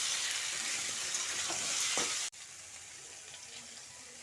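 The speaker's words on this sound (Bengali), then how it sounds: "কচু আলুটাকে এভাবে নেড়ে ফেলে ভেজে নিতে হবে" Taro and potato fry in a pan, a loud steady sizzle that drops abruptly halfway through to a much quieter background hiss, with no talking.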